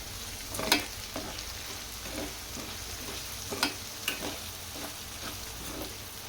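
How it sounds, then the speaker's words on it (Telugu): Ginger garlic paste and turmeric fry in a pan with a soft, continuous sizzle, broken by a few scraping stirs and light clinks, fairly quiet and close with no talking. "అల్లం వెల్లుల్లి పేస్ట్ అర టీ స్పూన్ అర టీ స్పూన్ పసుపు వేసి ఫ్రై చేసుకోవాలి"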